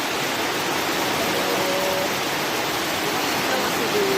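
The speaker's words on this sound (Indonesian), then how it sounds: "tahan dulu karena hujannya lumayan deras banget" Heavy rain on Mount Guntur pours down as a dense, loud, continuous hiss with no breaks.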